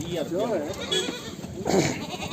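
A goat bleats twice with wavering, quavering cries, the second call shorter, over a busy outdoor goat market background in Punjab.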